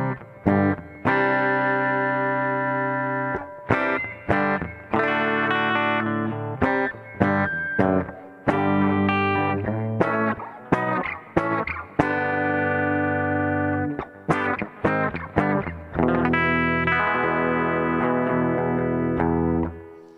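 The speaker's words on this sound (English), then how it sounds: "As you can hear, a compressor just evens everything out." Electric guitar through a Zoom G1 compressor effect plays a series of evenly levelled chords and single notes, loud and steady, with short pauses between phrases.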